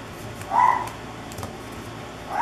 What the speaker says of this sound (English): I wonder who he's barking at.